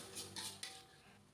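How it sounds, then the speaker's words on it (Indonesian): Cooked seasoned noodles are lifted and set onto a serving plate, giving a few quick clinks and scrapes of a utensil against the dish, brief and moderately close. "Aku letakkan di piring saji."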